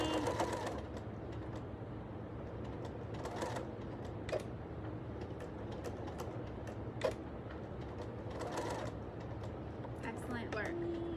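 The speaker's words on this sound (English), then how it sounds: "I'm back stitching" Sewing machine back stitching the seam of a heatable fabric eye mask, a steady low mechanical hum running throughout beneath a talking voice, with a few brief clicks and rustles.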